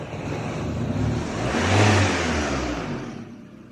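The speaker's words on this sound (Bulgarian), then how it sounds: "когато се подаде малко по-рязко газ, колата трудно се изфорсира" A Peugeot engine with a P1327 fault revs hard under a sharp stab of throttle, swelling to a strained, rough peak and then sinking back, close and loud with no talk.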